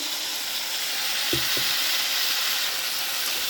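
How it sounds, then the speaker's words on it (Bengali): Ridge gourd and potato fry in a pan with a loud, continuous close sizzle and a couple of soft knocks from stirring partway through. "দেখো ঝিঙে আর আলুটা দিয়ে আমি ভালো করে ভেজে নিচ্ছি"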